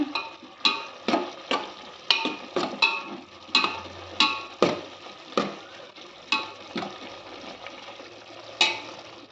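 A spoon stirs pickle powder and turmeric into a simmering pot of bisi bele bath, giving a steady series of sharp scraping knocks roughly every half second, with soft bubbling underneath and no talk.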